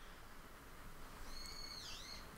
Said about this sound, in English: Do you hear that bird out there?